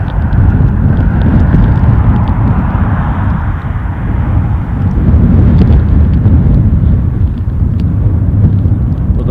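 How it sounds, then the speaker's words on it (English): A Loganair plane taxiing at Newcastle International airport produces a loud, steady low engine rumble and roar, continuous and close, with no voices. "I think I can get a bit of this taxiing Loganair"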